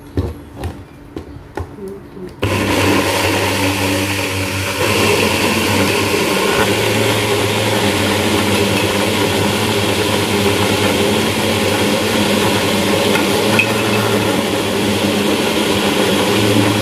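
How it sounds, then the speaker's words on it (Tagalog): A kitchen blender purées mango chunks with a splash of water for popsicles, starting abruptly after a short quiet stretch and then running loud and steady with a constant motor whine and churning roar, with no breaks. "i-blender sana hindi mag-overflow."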